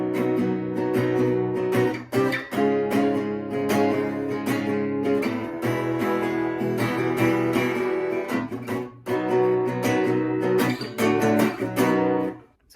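Guitar playing the chorus of Chloe Moriondo's "ghost adventure spirit orb", strummed chords ringing out in a steady rhythm with brief pauses between phrases, played alone without voice.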